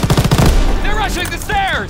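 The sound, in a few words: machine gun fire in video game Call of Duty: WWII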